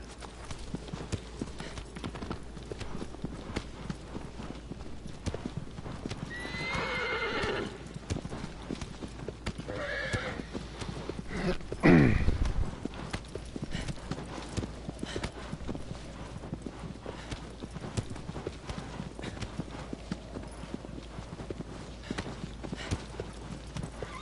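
A horse's hooves clip-clop in a steady gallop in the game Shadow of the Colossus, with a few whinnies and one louder neigh partway through, all fairly quiet and continuous.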